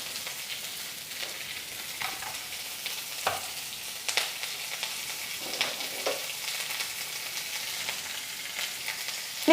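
Onion, dried chilli and curry leaves sizzle steadily in a hot pan of oil, a continuous bright crackling frying sound with occasional stirring scrapes, no voices.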